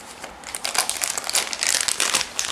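A large sheet of aluminium foil crinkles and rustles continuously, loud and close, with bursts of scrunching that swell and fade over a couple of seconds, no voices present.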